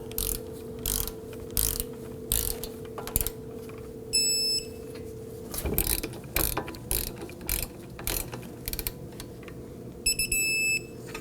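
Ratcheting clicks from a torque wrench tightening bolts on the front right CV axle of a 2001-2009 Volvo S60, in repeated bursts of rapid clicks with occasional sharp metallic pings, over a steady low hum.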